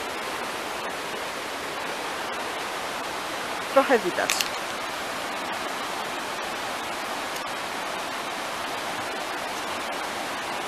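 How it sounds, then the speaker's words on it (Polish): A rushing stream swollen after rain near Inveruglas gives a steady broadband roar throughout, with a brief voice heard over it partway through. "Czy uda mi się pokazać wam strumyk?"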